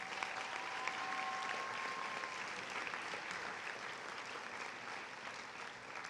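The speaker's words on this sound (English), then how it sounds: "Can you give them a round of applause for all that they do?" A crowd at a middle school moving-up ceremony applauds, a broad, fairly distant wash of clapping that stays even and gradually eases, with a brief faint tone heard early on.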